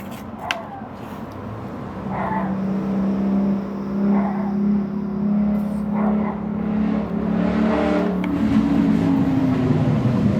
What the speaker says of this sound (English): People hot rodding around.